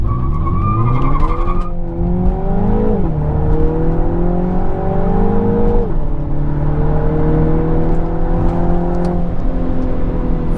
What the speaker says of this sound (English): Feels so good to drive this car.